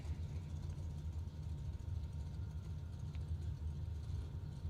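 Drag racing cars idle at a racetrack as they creep toward the starting line, a steady low engine rumble with throbbing bass, heard from a distance and fairly faint.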